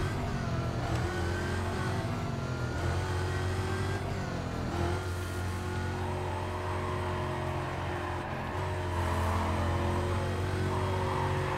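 A Lamborghini engine in Need for Speed Carbon revs hard and steady, a loud continuous roar with rising and falling pitch as it shifts, heard alone without talk.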